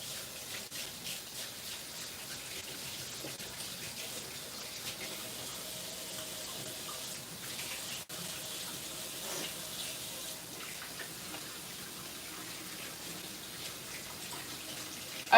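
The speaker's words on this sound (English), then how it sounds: "Let me wash my hands." Tap water runs steadily into a sink as hands are washed in a home kitchen, a continuous soft splashing stream with faint shifting as the hands move under it, with no speech.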